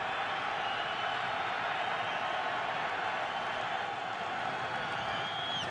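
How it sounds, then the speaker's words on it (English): Steady, dense roar of a stadium crowd at an NFL game between the Miami Dolphins and New York Jets, with fans urging on the Jets defense. The noise holds constant and fills the whole stretch. "this crowd urging on the Jet defensive unit"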